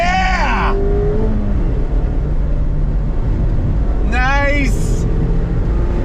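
A 2021 Mazda MX-5 Miata RF Club with its retractable fastback open accelerates through the gears, its engine rising and shifting twice over loud steady road and wind noise.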